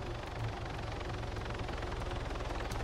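A helicopter in the military shooter Arma 3, a close, steady rhythmic rotor thumping with low engine rumble, continuous and fairly loud with no talk over it.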